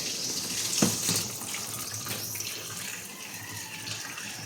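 A washing machine fills with water after a drain problem is fixed: a steady, close rush of running water pours in throughout, with one brief clunk near the start.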